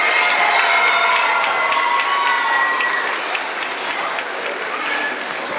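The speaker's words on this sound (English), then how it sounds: "how about one more round of applause for our two soloists" An audience at a middle school band, choir and orchestra concert applauds two soloists with sustained, dense clapping and scattered cheers, easing off slightly near the end.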